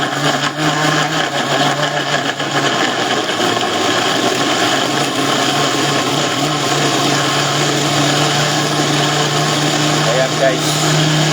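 A blender blending tomatoes for juice runs steadily throughout, its motor whirring at a constant pitch, with a person talking over it.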